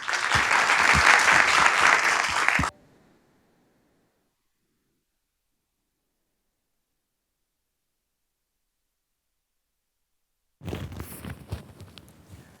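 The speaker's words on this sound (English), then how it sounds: "So please help me in a round of applause for welcoming our panelists." Audience applause welcoming panelists at an evening architecture talk, a dense burst of clapping lasting a few seconds before dying away, then silence, with another round of clapping and rustling near the end.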